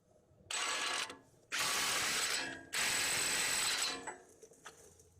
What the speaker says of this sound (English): So we over torqued this slightly too much, so I'll just reverse it a little bit.